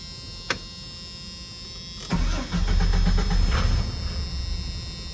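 A Renix Jeep truck engine cranks with a rapid whirring starter, then catches and settles into a loud, steady idle rumble close by, after an isolated click.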